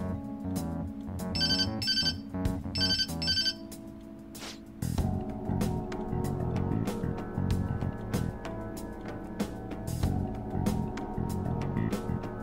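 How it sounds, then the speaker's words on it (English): A ringtone plays when calling Sojiro in Persona 5 Royal, two short electronic trill bursts followed by a steady melodic phone tune over soft background music. "I'll just call Sojiro's phone"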